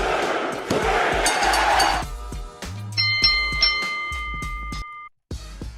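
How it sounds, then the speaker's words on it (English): A late-night bell, rung live in a sports talk radio studio during a basketball segment, sounds as clear sustained ringing tones over studio chatter and background noise, ending in brief silence. "Is that the late night bell?"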